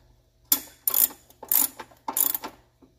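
A ratchet wrench tightens a new spark plug in a Ford F-150 engine, clicking in four separate bursts of quick ratcheting close up, with a faint click at the end and no voices.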